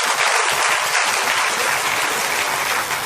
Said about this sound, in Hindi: एक बार ताली बजाइए जोरदार आप।